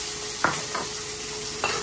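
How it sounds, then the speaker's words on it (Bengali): Potatoes fry in hot oil with bay leaf and dried red chili, giving a steady close sizzle broken by two or three quick scraping stirs of the spoon in the pan. "এখন দিয়ে দিলাম আলুটা একটু ভাজা ভাজা করে নিমু"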